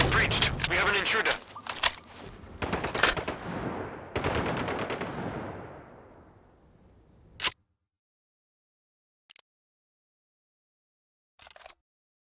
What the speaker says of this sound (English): Shots from long range!